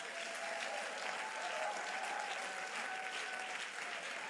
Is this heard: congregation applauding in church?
yes